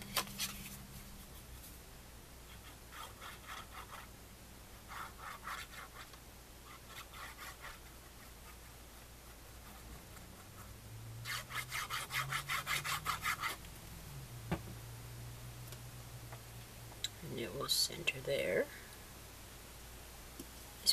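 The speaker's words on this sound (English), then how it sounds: "Give it a nice burnish." Folded paper is burnished with a tool in repeated rubbing passes, short dry scraping strokes in bursts with pauses between, close and fairly quiet, with a low hum underneath.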